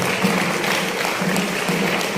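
An audience claps in a steady, dense round of applause at a Lagos event marking Brazil's 200-year anniversary, filling the whole stretch at an even, fairly loud level.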